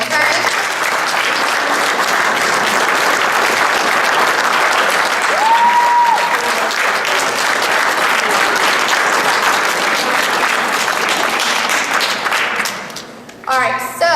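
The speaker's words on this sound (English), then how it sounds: "give a clap to your parents for me, okay?" Audience at a junior fitness camp closing ceremony applauding the parents, a dense, continuous wash of clapping that holds steady for a long stretch before tapering off near the end, with a few scattered claps and murmurs.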